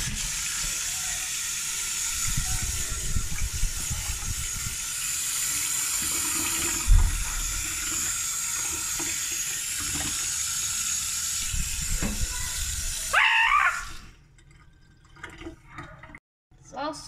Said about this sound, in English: We got the water filled.